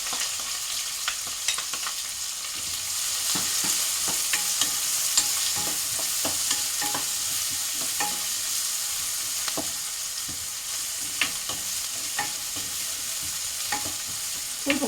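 Finely chopped onions and curry leaves sizzle steadily in hot oil in a pan, close and continuous, with scattered stirring scrapes and crackles.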